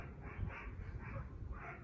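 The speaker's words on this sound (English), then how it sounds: "never mind the dogs in the background" Dogs bark in the background, a few muffled, mid-distance woofs spread over about two seconds with steady room noise underneath.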